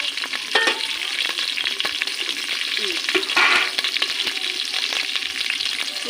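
Cumin and masala spices frying in a pot over a wood fire for a country chicken curry, with a dense crackling sizzle, frequent ladle knocks and stirring scrapes throughout.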